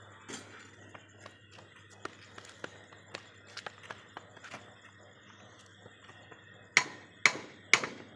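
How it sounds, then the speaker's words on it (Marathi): A hammer strikes a clamp, sparse sharp knocks spread through a quiet stretch, then three louder ringing blows close together at the end, with no talking. "हातोड्याने ठोकायचं क्लॅम्प"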